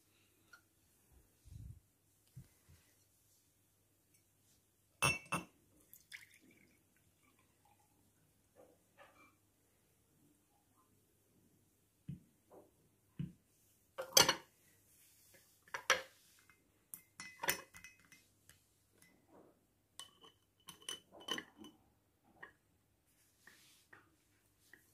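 A homemade hair-growth solution being strained, with sparse clinks and taps of utensils and containers, soft and close, scattered irregularly across long quiet gaps.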